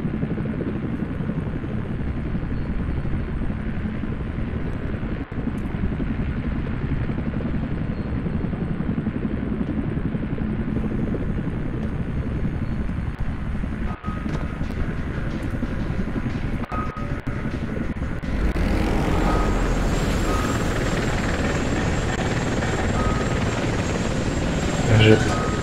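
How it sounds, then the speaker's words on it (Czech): Helicopter in the shooter F.E.A.R. 2: Project Origin: a loud, steady rotor roar and engine drone runs throughout, swelling louder and brighter toward the end. "Sakra. Vrtulník."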